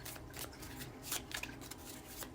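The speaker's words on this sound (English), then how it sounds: "I'm just going to pull some cards for clarification" Tarot cards being drawn from a deck for a Sagittarius reading, a few soft, papery snaps and slides of card stock, close and quiet, alone without talk.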